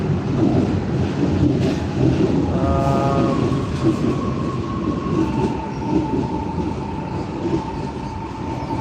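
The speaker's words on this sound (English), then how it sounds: "There's the train." A Moscow metro train rolls in loudly, rumbling and rattling, with a brief squeal of wheels partway through as it arrives.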